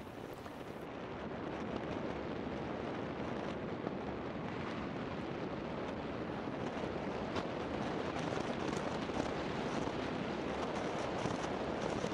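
Strong wind buffeting during a velomobile ride near an airport, a steady loud broadband rush and rumble of wind noise across the microphone, continuous throughout with no talking.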